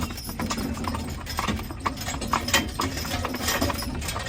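A team of young horses, Star and Barbie among them, clip-clop steadily on the ground while pulling together in the lines, a continuous irregular patter of hoofbeats close by.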